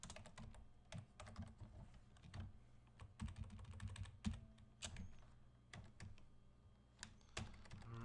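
Fingers type on a computer keyboard while text is entered into a document, quiet, close-up key clicks in uneven bursts with short pauses between runs of keystrokes.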